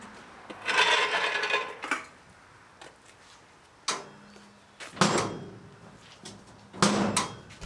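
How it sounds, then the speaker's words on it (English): Several bursts of metallic rattling and clunking as a wrecked trailer's door is pushed and bangs without latching, separated by short pauses. "That door just does not close right."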